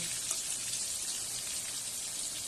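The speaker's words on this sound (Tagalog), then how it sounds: "Yan ginisa na muna natin para masarap" Ingredients sautéing in a pan for a coconut milk dish, a steady bright sizzle and crackle that holds evenly throughout, close and moderately loud.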